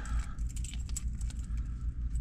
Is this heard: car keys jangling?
yes